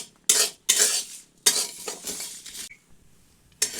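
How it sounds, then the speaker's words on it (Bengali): Whole cumin, coriander, fennel, cinnamon, cloves, cardamom and dried chillies are stirred while dry-roasting in a pan, making several close, separate bursts of scraping and rattling with short pauses between them. "প্রথমে কতগুলো গোটা মশলা ভেজে নেব।"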